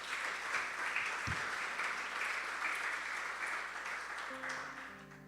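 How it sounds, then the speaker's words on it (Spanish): A church congregation claps for the Lord during a Spanish-language sermon: steady, sustained applause that fills the room throughout, easing slightly near the end as a low tone enters. "Denle un fuerte aplauso al Señor."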